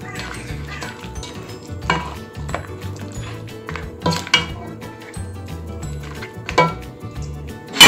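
Scotch bonnet pepper is stirred into meat in a cooking pot: scattered clinks and scrapes of a utensil against the pot, close and intermittent, under a speaking voice.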